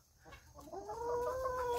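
Chickens in a coop cluck softly while pecking at vegetable scraps, one bird drawing out a rising, sustained call over faint background noise with no talking.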